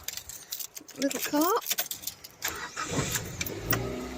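A small car engine cranks and starts on a frosty December morning after keys jingle, then settles into a rough idle, heard fairly close.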